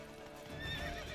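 Horse hooves clip-clop and a horse whinnies in Witcher 3 on Xbox, loud and close with a steady game ambience underneath.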